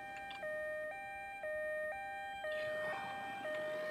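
Ambulance siren in the Ambulance Simulator game wails in a steady two-tone pattern, alternating low and high notes about twice a second, loud and continuous with faint traffic beneath.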